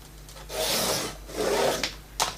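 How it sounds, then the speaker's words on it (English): A paper trimmer slices through paper sheets in two smooth, close scraping strokes, followed by a brief sharp snap at the end. "So I like to cut all the straight line with a trimmer."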